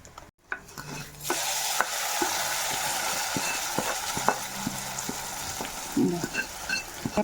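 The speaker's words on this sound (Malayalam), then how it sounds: "അപ്പം നമ്മൾ ഈ കറിയിലേക്ക് നമുക്ക് ഈ വറവിന് ചേർത്ത് കൊടുക്കാവേ" Tempering sizzles and fries as it is stirred into a pumpkin and yam curry, a steady loud hiss close up with occasional scraping clicks of a spoon against the pan, no talking.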